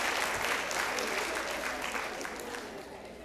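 Audience applause at a women's conference welcome session, a full room clapping steadily and loudly, slowly tapering off toward the end with a faint murmur of crowd beneath.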